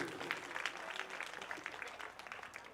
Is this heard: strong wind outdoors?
no